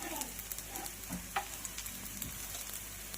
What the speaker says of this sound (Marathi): पॅनमध्ये असलेलं तेल असं असं करायचं आहे सगळीकडे फिरून आणि छान असा फ्राय करून घ्यायचा आहे